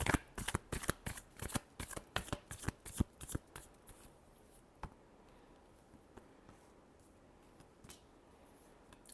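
Tarot cards shuffled in a fast series of sharp riffling slaps that taper off into a few scattered soft taps and quiet handling, close and free of speech.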